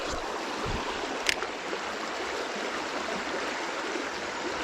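A trout creek flowing steadily over rocks, a continuous broad rushing wash held at an even level, with one brief sharp tick partway through.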